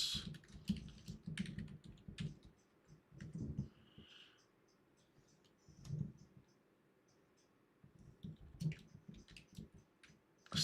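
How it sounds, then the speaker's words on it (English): Typing on a computer keyboard at a trading desk: quiet, irregular bursts of key clicks with short pauses, close and soft, no talking. "I'm typing something, guys."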